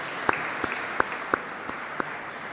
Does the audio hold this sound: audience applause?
yes